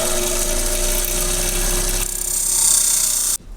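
A power tool whines loud and close while cutting a steel knife blank for a small neck knife, running steadily before the sound cuts off abruptly near the end.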